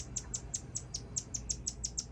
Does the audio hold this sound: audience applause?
no